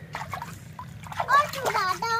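A hand splashes in very cold village water, with a few small sloshes and splatters close by as a child and an adult talk over them.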